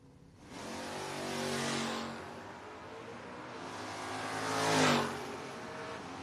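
At a No-Box 660 Shootout drag race, a Malibu and a Camaro launch and run, their engine roar swelling, easing, then surging again to a loud peak before fading, heard from a distance.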